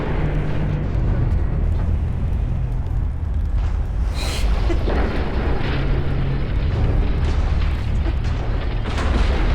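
Battleship main guns firing in Ultimate Admiral: Dreadnoughts, a WW2 naval battle between Strasbourg and Queen Elizabeth, merging into a dense, continuous thunderous roar of blasts and rumbling with no break.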